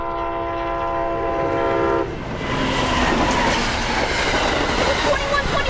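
An Amtrak SC-44 locomotive sounds a long, loud horn at the Byron Highway railroad crossing in Knightsen, then roars past with heavy rumbling and rail clatter.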